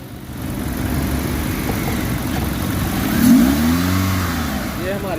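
A car engine, recently repaired after a random misfire that left only one cylinder working, idles and then revs up sharply once before settling, with a voice talking in the background.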